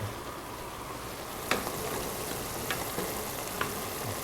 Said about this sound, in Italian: già sta bollendo per bene